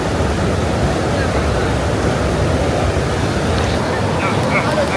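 Steady, loud rush of the Veerapandi river flowing in Theni fills the whole clip, a dense broadband wash with no breaks, close by.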